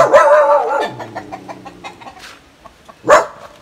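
Hens cluck close by, a loud squawk opening into a run of short rhythmic clucks, with another sharp cackle near the end.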